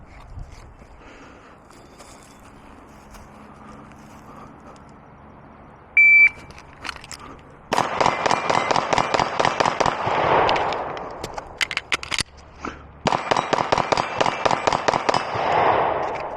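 A Glock pistol fires a string of twenty rounds at about ten yards, sharp loud cracks in quick bursts with brief pauses between groups, following a beep at the start.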